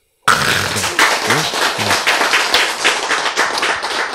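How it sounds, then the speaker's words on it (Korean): An audience bursts into applause right on cue at a Korean lecture on stem-cell lessons, dense steady clapping filling the room for several seconds with a few louder claps rising above the rest. "박수!"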